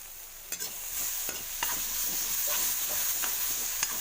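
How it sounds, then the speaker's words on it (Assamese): A spoon stirs fish curry in a sizzling pan after salt and turmeric go in, with a steady close frying hiss and a series of light scraping strokes at an irregular pace, and no voices. "ইয়াতে দি দিম মই এতিয়া অকণমান নিমখ আৰু অকণমান হালধি। এইখিনি ভালদৰে মিলাই ল'ম।"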